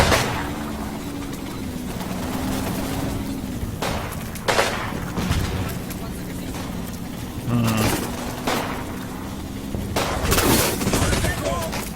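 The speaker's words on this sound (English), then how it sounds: "I'm starting to shoot at the closed areas of the church tower to hopefully clear that out" Gunfire aimed at a church tower in the war game Combat Mission: Final Blitzkrieg comes as scattered loud shots and short bursts over steady battle rumble, spread through the whole stretch while someone talks throughout.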